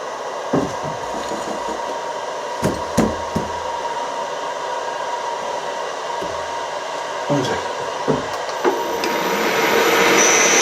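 A workshop machine runs with a steady whirring roar, broken by occasional sharp knocks and clatters, and grows louder toward the end.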